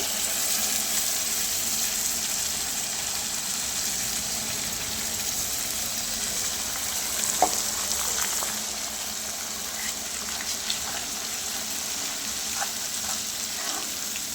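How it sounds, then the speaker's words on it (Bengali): Spice paste is sautéed in a pan with a constant soft sizzle and occasional light scrapes and clicks from stirring, with no talk. "মশলাটাকে বেশ কিছুক্ষণ কষিয়ে নেব।"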